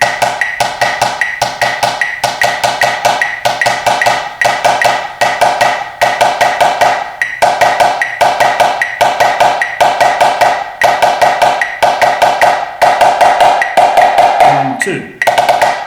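A snare drum plays a slow sextuplet exercise for an all-state audition étude, with steady bursts of crisp strokes grouped in even rhythmic clusters, close and loud throughout, ending in a brief untidy flam-like hit.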